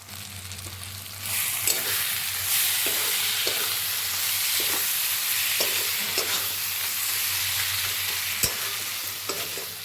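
Turmeric and dried red chili paste hitting hot oil in a wok, bursting into a loud, steady sizzle with intermittent stirring scrapes and clicks, close and continuous with no talking.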